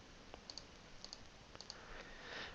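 Faint mouse clicks in pairs, three double-clicks spaced evenly at close range, then a soft rustle of movement.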